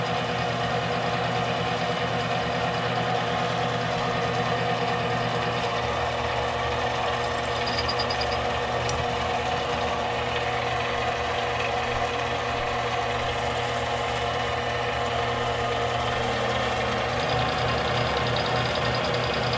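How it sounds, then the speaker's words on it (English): A lathe takes an interrupted cut on soft jaws, with a steady machine drone and a repeating knocking tone. The rhythmic contact continues through the pass and changes near the end, with no talking. "You can hear we got kind of an interrupted cut going."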